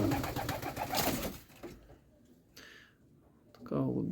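Pigeons coo softly nearby between stretches of a man's speech, their low throaty calls heard in the quieter middle section.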